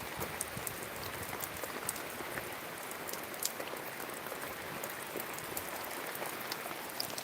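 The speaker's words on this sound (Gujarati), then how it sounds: "ત્યાં વરસાદ આવી ગયો" Steady rain falling, a dense even patter with scattered sharper drops striking a surface nearby, no voices.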